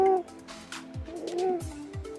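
At a waterfowl park, a person imitates a bird call with a few short, soft cooing notes, faint and close.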